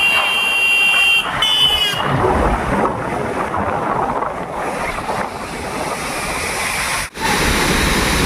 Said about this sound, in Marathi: आत्ता ना आपण धबधब्याजवळ येऊन पोचलो तिकडे बघा धबधबा आहे